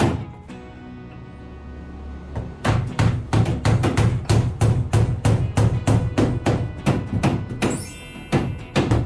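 Steady hammer blows ring out in a fast, regular rhythm, about two per second, close and sharp, after a quieter start.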